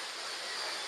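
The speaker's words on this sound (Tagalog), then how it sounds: "Saka yung tunog ng waterfalls oh" Sojeongbang waterfall and ocean waves on Jeju Island roar as a steady, dense rush of water, loud and unbroken for under a second.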